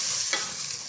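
Kashmiri dried chilli and ginger paste frying in a pan, a loud, close, continuous sizzle with one quick stirring scrape, very brief.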